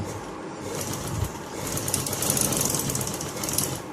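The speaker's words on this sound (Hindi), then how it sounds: "अब हम उसको स्टिच करेंगे" A sewing machine stitches a shalwar, producing a close, continuous rapid mechanical rattle that swells slightly and holds steady throughout.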